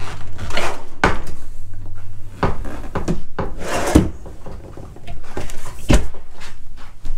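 Pull-out drawers and trays in a 2014 Excel by Peterson Limited Edition 34IKE fifth wheel trailer slide and bump several times, wooden knocks and rubbing runners close by with no talk.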